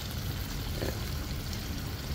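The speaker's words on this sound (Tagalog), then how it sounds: "Siguro nilagay kong tubig, mga 1 cup." About a cup of water poured into a pan of pancit canton noodles, a continuous broadband splashing rush that holds steady for a couple of seconds, close and fairly loud.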